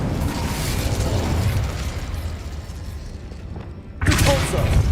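The Confringo explosive spell fired in the Hogwarts Legacy video game: a rumbling, crackling blast under ongoing game noise, followed by a sharp, loud burst that bursts out near the end.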